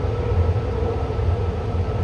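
A BART high-speed train on the orange line, ridden from inside near the Coliseum stop, gives a steady close rumble with broad rolling noise and a faint hum throughout, no voices.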